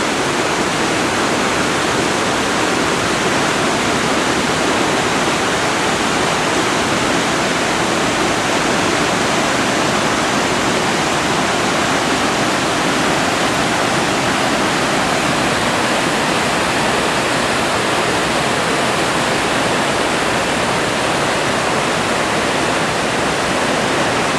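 The robust stream at Koosah and Sahalie Falls in Oregon rushes in a loud, constant roar of fast-moving water. It is close and unbroken, with no voices over it.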